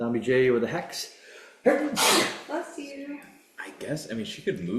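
A single loud sneeze bursts out midway through a tabletop role-playing game session, with people chatting just before and after it.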